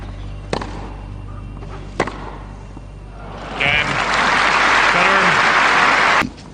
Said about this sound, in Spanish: la central respondió con una ovación atronadora